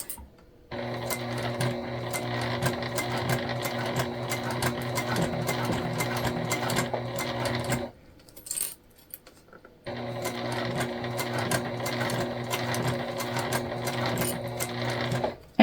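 A sewing machine stitches through webbing near a D-ring, running steadily with a loud, fast mechanical whir, stopping briefly for about two seconds, then starting up again and running to the end.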